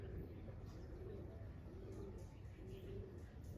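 Soft, low cooing from a Kalpotiya breed pigeon at a home loft, repeated murmuring coos rising and falling over a steady background hum, fairly close but quiet.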